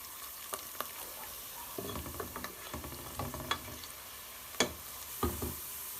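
Onions frying in a pan while being stirred, with scattered scraping and clinking strokes over a soft, quiet sizzle. The stirring comes in uneven bursts close by, and nobody speaks.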